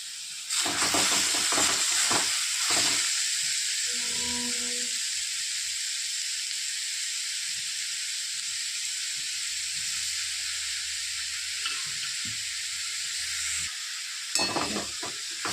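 Grated pumpkin sizzles and hisses steadily in hot ghee, a close, continuous frying sound with a few brief stirring scrapes and clinks near the start and again near the end.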